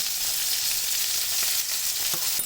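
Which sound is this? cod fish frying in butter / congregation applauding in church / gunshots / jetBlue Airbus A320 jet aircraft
cod fish frying in butter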